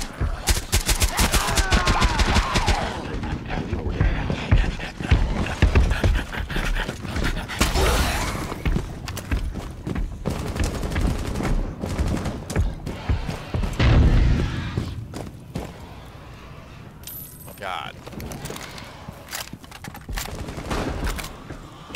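Rapid automatic gunfire and bursts in the zombie mode of Rainbow Six Siege Outbreak, loud and nearly continuous with heavy bangs, easing off later under scattered shots and faint game noise.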